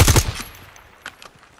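A quick burst of rapid automatic gunfire in the tactical shooter Ground Branch, several sharp close shots in fast succession fading into a faint echo, followed by a couple of softer distant pops.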